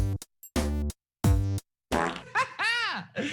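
Electronic fart sounds play from a game device: three loud, buzzy blasts in quick succession, then sputtering, wobbling squeals and whistles that trail off, close and prominent with no talking.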